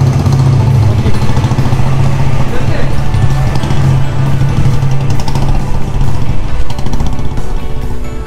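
A motorcycle engine running at the start of a day's ride on a long road trip in India, a loud, steady, close throb that keeps going without a break.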